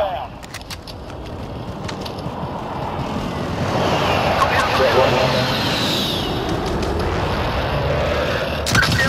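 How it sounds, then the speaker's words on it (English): An incoming video game airstrike builds into a loud, sustained roaring rush of aircraft and explosive rumble, swelling midway and holding, with a player talking over it. "Airstrike target marked. Take it down. inbound."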